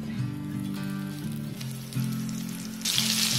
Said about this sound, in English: The oil is nice and hot. Okay, I can feel it. So let's start dropping our prawns.